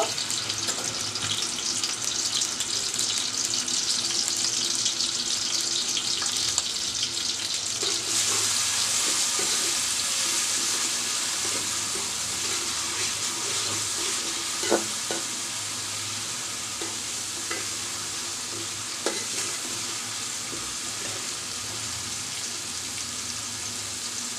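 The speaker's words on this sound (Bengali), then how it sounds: "আমি সয়াবিন তেল দিয়ে রান্না করছি আগে প্রথমে আমি পেঁয়াজটাকে নরম ভাজা করে নিব" Onion softening in hot soybean oil in a home kitchen pan, a steady close sizzle with occasional stirring scrapes and light clinks throughout, no talking.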